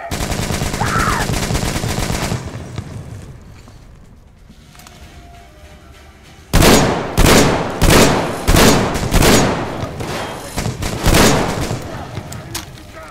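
Gunfire in the shooter Metro Exodus: after a noisy, quieter stretch, loud heavy shots ring out in a series of about eight evenly spaced, booming reports, each with a decaying tail, near and dominant.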